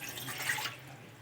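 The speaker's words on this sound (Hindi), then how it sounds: "हम गैस की फ्लेम को ऑन करेंगे और इसमें 1 गिलास पानी ऐड करेंगे।" Water poured from a glass into a pot on a gas stove for an ayurvedic kadha, a faint, short, steady trickling splash heard close and alone.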